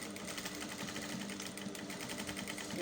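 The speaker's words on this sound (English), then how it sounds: "Then I'll start sewing." A sewing machine runs continuously while stitching an elastic band onto an A-line cold shoulder shift dress, with a steady rapid mechanical whirr and needle rhythm throughout.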